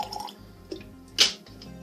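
A few drops of water fall into a glass of cask-strength Kentucky straight bourbon, with small quiet drips and one sharper splash near the end, close and isolated.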